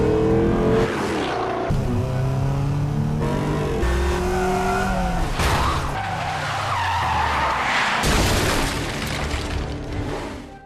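A car chase in a film: tires screech and skid loudly again and again over revving engines and sudden booms, in dense and unbroken action.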